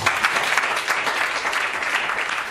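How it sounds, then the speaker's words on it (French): A church congregation at a Lutheran evangelical service applauds steadily, a dense, continuous wash of clapping throughout with no pauses. "Acclamez-vous vous-même."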